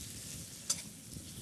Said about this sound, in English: I'm going to stir and make sure they all get that on.